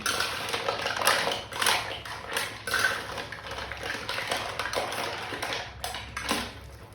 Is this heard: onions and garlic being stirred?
yes